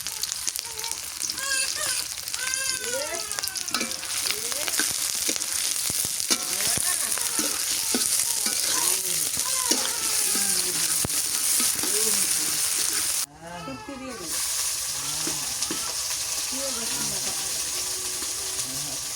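Onion and green chilli sizzle and crackle in hot oil on a clay stove, a loud, close, continuous frying hiss with stirring scrapes, and people chatting over it throughout.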